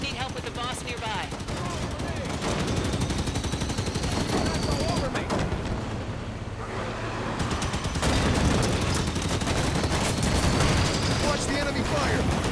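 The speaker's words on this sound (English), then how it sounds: "Watch the enemy fire!" Dense, continuous enemy gunfire from the Halo 5 Firefight beta, with rapid automatic bursts and booming shots layered into a loud, unbroken wall of battle noise.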